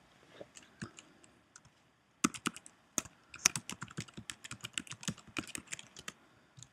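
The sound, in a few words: typing a password on a computer keyboard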